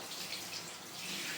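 Warm water runs from a tap to bathe a dog, a soft, steady hiss of flowing water that stays low and even throughout, with no voices.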